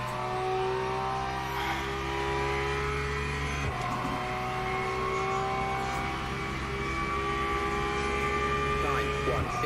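A Porsche engine in a racing video game drones with a steady tonal whine that shifts pitch partway through, sustained and moderately loud throughout, with a faint voice underneath.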